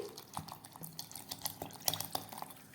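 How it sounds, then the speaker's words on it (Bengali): A little water is added to soaked rice and dal for dosa batter, quiet splashes and drips mixed with light clinks and taps of a container, close by and soft. "এবার আমি ডালটাকেও এর মধ্যে একসঙ্গে দিয়ে দিচ্ছি একসঙ্গে দিয়ে সামান্য জল দিয়ে দিচ্ছি"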